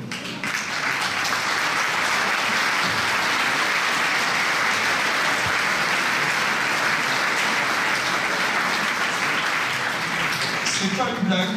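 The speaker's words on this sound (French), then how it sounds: "Je vais vous demander de faire un tonnerre d'applaudissements" Sustained, loud applause from an audience at a mayor's New Year wishes ceremony, greeting the mayor's deputy, with a steady dense wash of clapping filling the whole stretch and fading slightly near the end.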